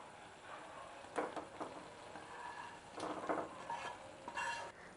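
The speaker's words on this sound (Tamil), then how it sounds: "இப்போ நல்லா மிக்ஸ் பண்ணிக்கலாம்." Paneer masala gravy being stirred in a pan, with a spoon scraping and mixing in soft bursts over a faint background sizzle; no talking.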